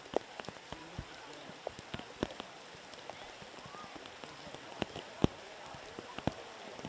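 Steady rain patters over a girls' soccer match, a dense hiss broken by sharp scattered drops and knocks, with faint commentary-like voices under the downpour.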